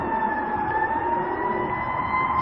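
An ambulance siren wails loud and steady as it passes, a continuous high tone over road rumble, with no one speaking.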